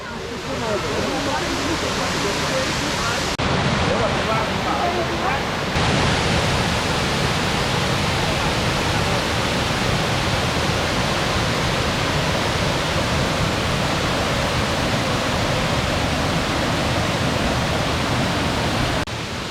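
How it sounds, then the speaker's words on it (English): A multi-tiered waterfall near Luang Prabang, Laos, roars on its second level as a steady, loud, dense rush of falling water that fills the whole scene without a break. "The second level of waterfalls is simply stunning."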